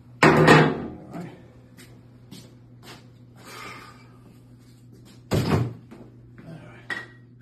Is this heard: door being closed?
yes